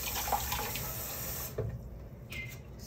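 Water runs in a steady stream, poured slowly and a little at a time into jalebi batter, close and fairly quiet, then thins out into softer trickles near the end.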